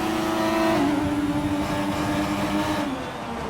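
A McLaren MP4/4 Formula 1 car in a racing video game screams at high revs with a steady, droning engine note that shifts pitch slightly as it holds speed, loud and continuous throughout with no talking.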